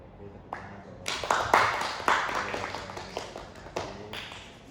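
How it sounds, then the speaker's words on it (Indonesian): A small group of students in a classroom counseling session claps hands together, a scattered burst of claps that builds and then tapers off, fairly close and moderately loud. "Oke, tepuk tangan dong."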